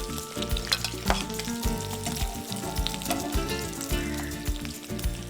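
Food fries in its own rendered oil in a pan without any added oil, giving a dense, steady sizzle with crackling pops and stirring scrapes, close and continuous, with no talking.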